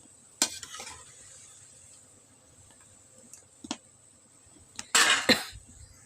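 Cauliflower kofta frying in hot oil is stirred and lifted out, giving a few brief, scattered scrapes and sizzling clatters, loudest in a short burst near the end, over quiet kitchen background.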